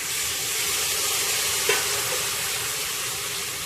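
Ribbon fish dropped into a pan of hot, spiced masala, giving a steady, loud sizzle and frying hiss with a brief clatter as the pieces go in.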